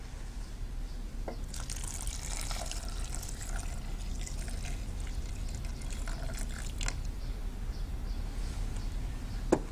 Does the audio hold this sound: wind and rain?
no